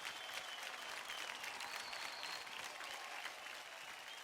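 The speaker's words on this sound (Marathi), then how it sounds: "पुन्हा एकदा जोरदार टाळ्या होऊन जाऊ द्या." Studio audience applause on a Marathi televised dance competition, a sustained, even roar of many hands clapping, fairly distant and recorded at low level.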